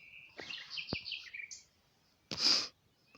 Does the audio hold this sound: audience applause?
no